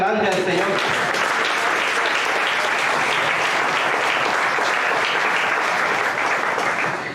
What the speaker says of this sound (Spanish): Denle un aplauso grande al Señor.